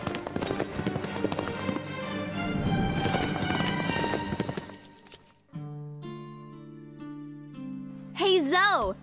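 Cartoon horse hooves clip-clopping as the horse is ridden, a steady rhythmic patter mixed under background music and talk, fading out midway, followed by sustained musical tones.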